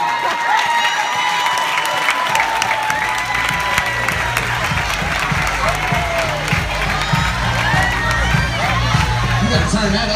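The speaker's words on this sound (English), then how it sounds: "stand up so we can clap for you" A crowd at an event claps and cheers for people standing up, with dense, continuous applause mixed with whoops and shouts for the whole stretch, loud and close.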